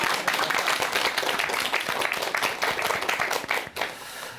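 A lecture audience claps for one of its members, a brisk, fairly close round of applause with some distinct individual claps that dips briefly near the end before resuming.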